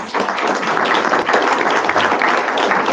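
A crowd gives a round of applause for the candidates at a 2023 Loudoun General Assembly candidate forum; steady, close clapping from many hands fills the short stretch without a break, with no talk over it.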